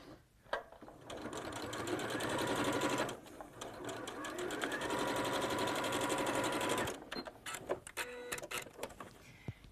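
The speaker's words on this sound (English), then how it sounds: "So leaving the needle inserted, just close that zip out of the way and sewing along the rest of the project." Sewing machine stitching a zipped cosmetic bag, running in two long, steady bursts with a brief pause between them, loud and close, then stopping into scattered mechanical clicks and handling noises.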